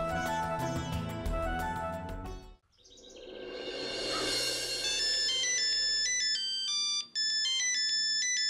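A mobile phone ringtone plays a melodic electronic tune, loud and close, stopping briefly before a chirpy, bird-like ringtone melody starts up and continues ringing, with no voices.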